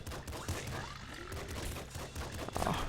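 Gunfire in the top-down shooter Nuclear Throne: dense, rapid weapon blasts packed into a continuous crackling barrage that runs the whole time, loud and close, with only brief gaps.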